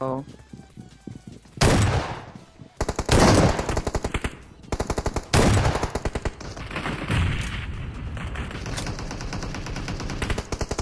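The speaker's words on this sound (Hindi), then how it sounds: "अब यहाँ पे भाई मुझे शॉटगन मिलता है और मैं इस बंदा को बहुत डैमेज देता हूँ" A shotgun and other weapons fire in the mobile battle game Battlegrounds Mobile, with loud blasts and rapid bursts coming close together over a background of game sound.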